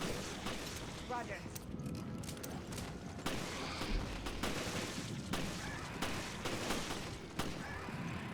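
Gunfire crackles through a Resident Evil fight against T-virus creatures, with repeated shots and heavy booms layered over dense game noise and voices.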